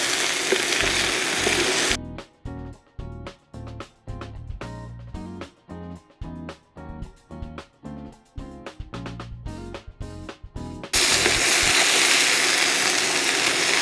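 Potatoes sizzle in a hot skillet while being stirred, a loud bright hiss broken into rapid uneven bursts as the spoon turns them, opening and closing on a steady unbroken fry.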